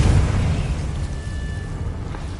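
A Confringo explosive spell bursts in Hogwarts Legacy with a loud, deep boom that fades into a rumbling tail over a couple of seconds.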